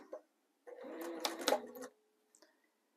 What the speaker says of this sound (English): we are going to ignore that outer corner and stitch from corner